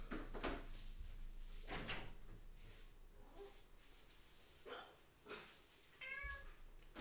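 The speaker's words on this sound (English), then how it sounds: "good enough to also catch my cat screaming at the door" A house cat yowls and meows insistently at a door, several drawn-out cries spread across the stretch, fairly close, over a steady background hum.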